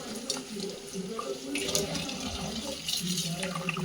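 Kitchen tap water runs steadily into a sink while spinach leaves are rinsed clean of soil, a continuous splashing flow close by with faint handling noises.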